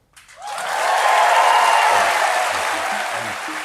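A studio audience on a US talk show rises in a standing ovation for Ukrainian foreign minister Dmytro Kuleba, a dense wash of clapping that swells quickly after a brief start and holds steady and loud, with faint voices underneath.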